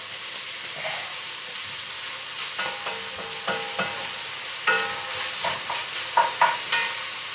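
Onions sautéing in lamb cooking juices for a quick lamb sauté crackle softly in the pan, while repeated stirring strokes scrape and clatter in an uneven rhythm, growing louder toward the end.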